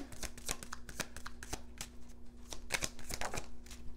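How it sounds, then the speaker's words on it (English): Tarot cards drawn and handled from a deck at close range, giving quick papery flicks and soft snaps in irregular bursts, quiet and alone with no talk. "let's get another card here"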